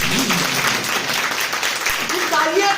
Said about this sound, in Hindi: फिर तालियां